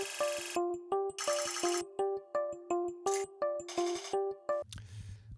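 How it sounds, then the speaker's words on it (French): Chiming, ringtone-like tones struck in a steady rhythm, passed through convolution reverb modelled on the king's tomb in the Giza pyramid, with bursts of bright shimmer and a low rumbling tail at the end. "C'est la magie de la reverb à convolution."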